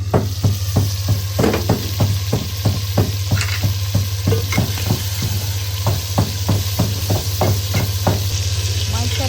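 Aloo gosht masala with large-cut potatoes fries in a village-style clay handi, a steady loud sizzle broken by regular scraping stir strokes roughly every half second, with a constant low hum underneath.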